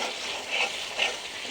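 Spice masala with Maggi seasoning is stirred in a frying pan for chickpea bhaji, giving a soft, continuous sizzle with light stirring swishes, fairly quiet and close.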